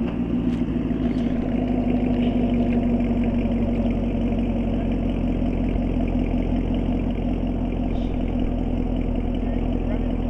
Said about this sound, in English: I feel like Chevy does a really good job for stock exhaust sound.